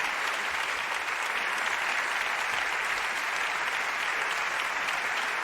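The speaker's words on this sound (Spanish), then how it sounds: "Pues un aplauso para ellos" Steady, dense applause from a concert audience welcoming a music band at a concert supporting the Asturian language, a continuous wash of many hands clapping at even loudness with no talk over it.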